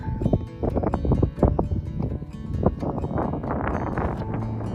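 Strong wind roars and buffets the microphone continuously, loud and close, with gusty rumbling throughout, out in the Owyhee desert near Melba, Idaho.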